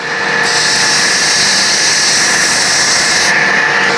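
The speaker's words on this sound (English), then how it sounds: "Grinding off the excess material." A power grinder steadily grinds excess material off a boot during shoe construction, a loud, continuous high-pitched whir that holds evenly throughout with no talking.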